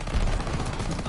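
Rapid gunfire from the Call of Duty WW2 video game crackles in a dense, loud burst of overlapping shots lasting about a second.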